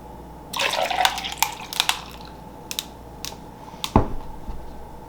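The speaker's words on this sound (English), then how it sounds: "I just poured the coffee on the ice" Coffee pours over ice in a glass, setting off crisp crackles and clicks of the ice cubes with a few small splashes. The sounds are close and intermittent, with no talking.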